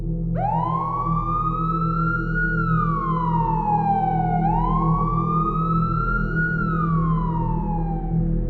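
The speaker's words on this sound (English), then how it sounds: "Minutes felt like hours before hearing the police sirens from down the road." A police siren wails loudly, rising and falling in two long sweeps over a low engine rumble.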